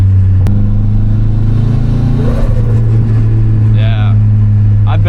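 Turbocharged 1990s Mazda Miata engine humming steadily from inside the cabin while cruising, with a faint, brief turbo flutter partway through and talk over the drone.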